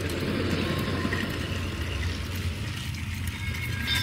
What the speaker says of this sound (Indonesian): Lihat kereta api Gina lebih cepat